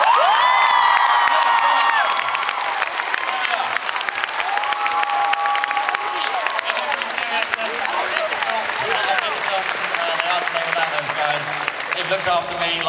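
An audience at a Harry Potter fan Q&A event applauds steadily for the first and second assistant directors, loud sustained clapping with whoops and cheers mixed in throughout.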